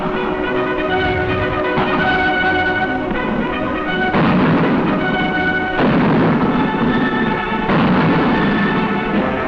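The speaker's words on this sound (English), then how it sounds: "infantry advance to assault the town as the barrage of mortar fire continues" Mortar barrage during a 1944 infantry assault on a town, recorded in an old army newsreel as a continuous loud, muffled rumble with repeated heavy thuds and no pauses.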